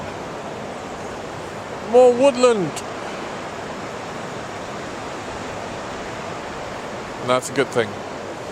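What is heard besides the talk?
flowing stream water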